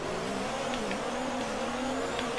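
Formula 1 cars launching from a race start at the French Grand Prix in the F1 2019 video game, a dense, continuous high-revving engine whine from the pack, loud and sustained.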